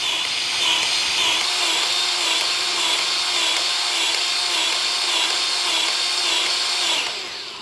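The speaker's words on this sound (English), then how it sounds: "I'm gonna be shooting it with my Milwaukee M12 grease gun" A Milwaukee M12 cordless grease gun whirs close by in steady, slightly pulsing bursts as it pumps grease into a fitting on a stand-on mower with a bucket loader, running continuously and easing off at the end.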